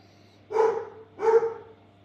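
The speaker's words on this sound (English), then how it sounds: "You might have been hearing the bark behind. He's barking at somebody." A dog barks twice at somebody while relaxing on a carpet indoors. The two short, loud barks are evenly spaced about half a second apart and close by, with no talking.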